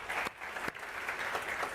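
A TEDx audience claps steadily in a short burst of applause, heard at moderate distance and fairly quiet, with no talking over it.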